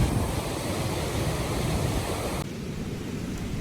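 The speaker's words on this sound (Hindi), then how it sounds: "ये पानी की धारा इतनी तेज जो कि ऊपर गौमुख से गंगोत्री के लिए भागीरथी नदी बह रही है।" The Bhagirathi river rushing in a fast stream on the way from Gaumukh to Gangotri, a steady broadband roar of water heard close and continuous, with a slight drop in level near the end and no talking.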